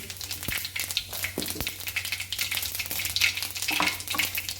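Cumin and mustard seeds crackle and sizzle steadily in hot oil, a dense continuous frying noise with scattered pops and occasional spoon clinks, without any talk.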